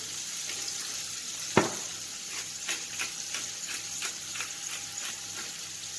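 Tortilla sizzling in a very hot frying pan, a low steady crackle with one sharp tap and a few faint clicks, quiet and close, with no voices.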